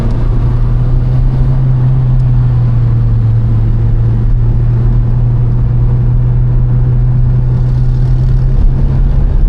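A 23-year-old Honda Civic Type R EP3 engine drones loudly and steadily from close by, a sustained low tone with a slight dip near the end.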